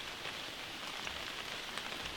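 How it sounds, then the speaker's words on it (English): Soft rain falls through Missouri woods during a pre-rut hunt, a faint, even patter with a few distinct drops landing nearby, quiet and unbroken by talk. "The shit part is it's raining."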